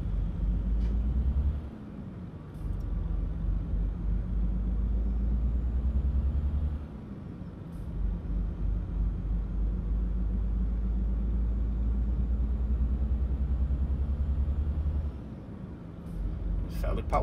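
A Renault truck engine of about 512 to 526 horsepower, hauling special transport in the video game Euro Truck Simulator 2, rumbles with a deep, steady drone, briefly dipping and shifting pitch a few times as gears change.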